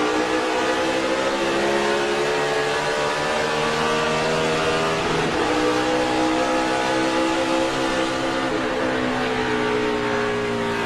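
Onboard a NASCAR race car on a restart at the 2007 Citizens Bank 400, the engine roars loud and continuous with rising and falling pitch as it accelerates and shifts, and no voices.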